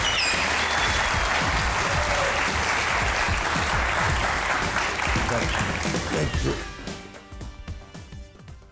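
Sustained applause from a studio audience on a Pakistani comedy talk show welcoming actors Behroze Sabzwari and Jawed Sheikh, loud and dense at first, then thinning into scattered claps near the end.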